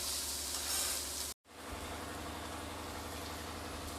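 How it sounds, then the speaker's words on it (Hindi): Onions frying in a pan until turning transparent for paneer bhurji, giving a steady broadband sizzle that runs throughout, broken by one brief silent gap near the start, with no talking. "अनियन को मैं थोड़ा सा ट्रांसपेरेंट होने तक भून लूँगी"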